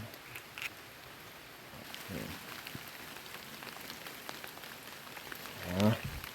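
Rain falls steadily in a forest, a faint continuous patter of drops with a few louder splashes and a brief swell near the end, with no voices.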